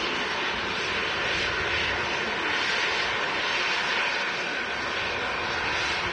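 An Airbus A380 jet airliner operating for TUI at Manchester Airport, a loud continuous engine roar holding steady throughout, with no talk over it.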